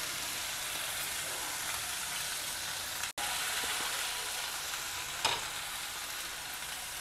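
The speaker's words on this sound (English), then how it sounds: "First stir fry it for about 2 to 3 minutes." Chopped broad beans stir-fry in a pan, a dense continuous sizzle with occasional spatula scrapes and a brief cut midway.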